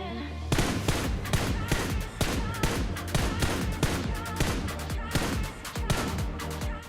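Enemy gunfire in the battle-royale shooter PUBG Mobile: a dense string of sharp, close shots fired in rapid bursts, crackling almost continuously with brief gaps between volleys.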